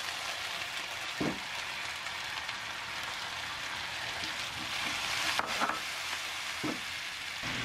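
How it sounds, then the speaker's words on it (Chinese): Diced carrots stir-frying in hot oil in a wok for egg fried rice, a continuous bright sizzle with occasional spatula scrapes and knocks, close and steady with no talk. "锅里重新倒入油，油热以后，先将胡萝卜丁倒入锅里翻炒"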